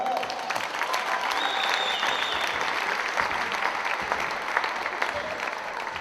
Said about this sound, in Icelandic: skulum gefa hann gott klapp